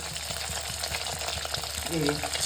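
Chicken pieces frying in hot oil in a wok, one at a time, a dense, steady sizzle with light stirring, heard up close without talk.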